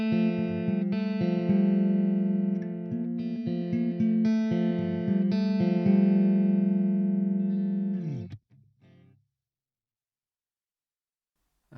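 An electric guitar through an Axe-FX USA clean amp model and 4x12 V30 cab plays sustained chords with a clean, slightly chorused tone, then stops abruptly and rings out into silence.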